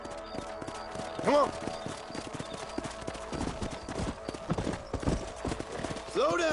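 Horse hooves clip-clop in a steady galloping rhythm in Red Dead Redemption, close and clear, with occasional whinnies and a voice speaking briefly over them.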